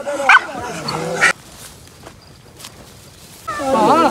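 A hunting dog barks loudly and close during a boar hunt in Pakistan. Sharp barks burst near the start and again at the end, with quieter outdoor background between.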